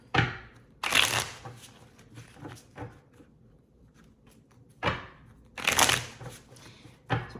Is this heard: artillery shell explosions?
no